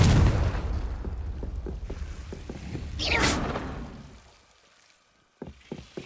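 A Confringo explosion spell in the video game Hogwarts Legacy sounds as a heavy low rumble. A rising whoosh and bright burst follow, then the noise fades to near silence before a few sharp pops.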